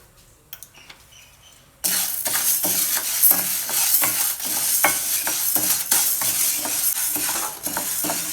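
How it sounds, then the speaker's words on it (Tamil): Green gram dry-roasts in a kadai on the stove: after a quiet start, a sudden loud bed of rattling, scraping grains with repeated sharp stirring clicks continues close up to the end. "ஒரு டம்ளர் பயிர் எடுத்துருக்கேன். அதை போட்டு நல்லா வறுத்துக்கலாம்."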